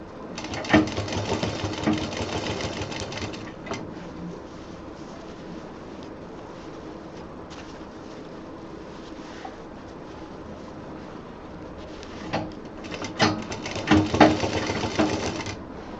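A sewing machine runs in long steady bursts while stitching a zipper onto a fabric college bag. The motor whirrs loudly at the start, settles into a quieter stretch, then surges again near the end.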